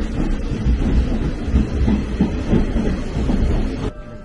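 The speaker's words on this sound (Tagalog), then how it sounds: "Grabe yung tren dito, ang bilis." Rumbling interior of a Japanese commuter train travelling from Tenjin Station toward Dazaifu, a steady low roar with faint rail clatter that cuts off sharply near the end.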